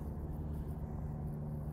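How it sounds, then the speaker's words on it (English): Faint, steady road traffic rumbles low and constant beside a walking path in Stanley Park, Vancouver, heard from some distance with no other clear sounds. "You can hear the road noise behind me in most of these images."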